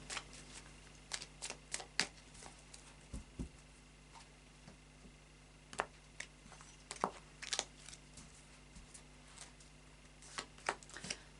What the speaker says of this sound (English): And then a final shuffle of the Lightseers Tarot deck.